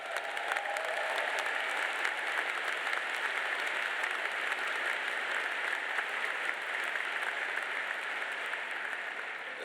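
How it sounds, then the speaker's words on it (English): An audience at an MBA graduation ceremony gives a steady, sustained round of applause, even and moderately distant throughout with no break. "Can we give them another round of applause?"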